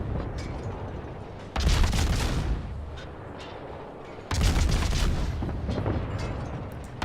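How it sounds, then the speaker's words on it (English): Gearing destroyer guns in a naval video game fire in rapid, booming volleys, two heavy salvos of rolling blasts separated by a quieter stretch of rumbling background. "I forgot how fast rate of fire from Gearing's guns is."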